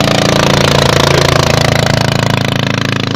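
A farm tractor's diesel engine chugs loudly and steadily nearby in a muddy rice paddy in Suphan Buri, Thailand, a rough rhythmic mechanical rumble running without pause.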